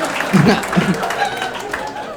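A comedy club audience gives a short burst of applause and scattered laughter beneath someone speaking into a microphone, the clapping loose and moderate, fading as the talk continues.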